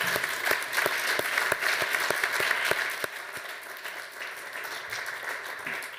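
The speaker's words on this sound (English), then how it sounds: "Can we give one more round of applause to all of the panelists here?" An audience claps loudly for a few seconds, then the applause thins and carries on more softly.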